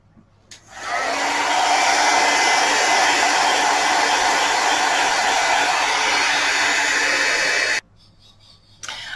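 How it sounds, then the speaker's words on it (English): A heat tool dries texture paste on a handmade card, blowing with a loud, steady, close whoosh for about seven seconds before it cuts off abruptly. "I have dried that with my heat tool"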